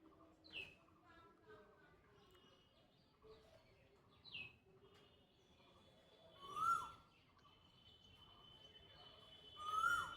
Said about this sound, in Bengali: এদিক কোকিলের সুন্দর ডাকছে। কোকিলের ডাকটা তোমাদের শোনাই।